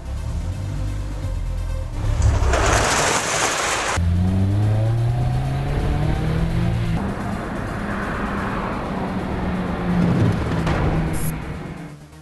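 A Honda S2000 fitted with a Mishimoto radiator pulls away on a test drive, its engine revving up through rising gear sweeps, fairly close and loud, then fading as it heads off.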